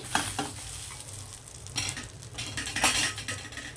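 Chana toast sizzling in ghee in a hot pan, turned with two ladles, with steady frying crackle, scraping and a few utensil clinks close up, no talk.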